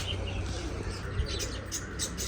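Pigeons let out of a loft during a Punjabi pigeon-flying day, soft cooing and light chirps over a steady outdoor hum, brief wing flutters faintly toward the end.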